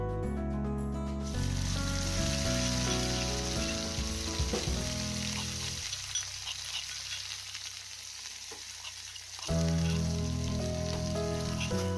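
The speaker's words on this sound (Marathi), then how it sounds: "हे तयार केलेलं वाटाण चांगलं भाजून घ्यायचं" Ground pea paste frying in hot oil with cumin seeds, a steady close sizzle that runs throughout with occasional stirring scrapes, dipping quieter in the middle before swelling again; background music plays along.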